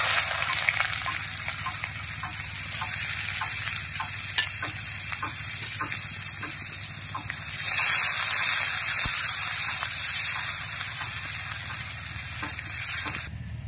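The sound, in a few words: chopped onions frying in oil in a wok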